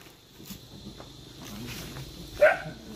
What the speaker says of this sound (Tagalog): Daming aso ni tatay.